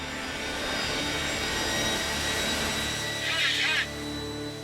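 A small aircraft engine runs at steady full power during a stunt test, with a loud continuous droning roar throughout and a brief higher whine near the end.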